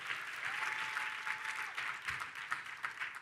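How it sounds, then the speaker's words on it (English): Audience applause in a seminar room, a dense steady patter of many hands clapping fairly close for a few seconds, with no talk over it. "Give yourselves a round of applause."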